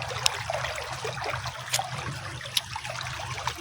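Water from a waterfall trickles and splashes in a soft, steady flow, fairly faint, with a few sharp splashes standing out.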